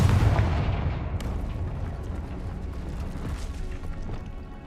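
A Confringo fire-blast spell in the video game Hogwarts Legacy erupts in a loud, booming explosion that rumbles and crackles as it slowly decays over several seconds.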